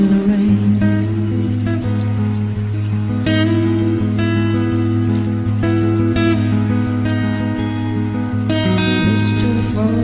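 Steady rainfall patters throughout behind a live song, continuous and fairly loud, blending with sustained instrumental tones and no singing voice prominent.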